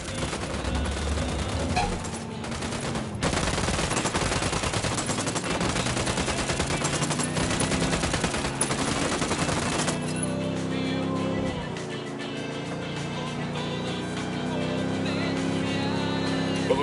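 Soldiers firing weapons, a dense, loud barrage of rapid automatic gunfire and bursts layered with roaring engine-like noise, easing into a lower rumble with sporadic shots toward the end.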